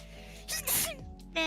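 A single sneeze, a quick sharp burst of breath lasting under a second, close to the microphone, with quiet room noise before and after.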